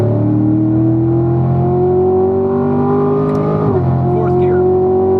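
A race car's engine revs steadily upward as it accelerates out of a corner, loud and close from inside the cabin, with a brief dip during a shift, while a driver talks over it.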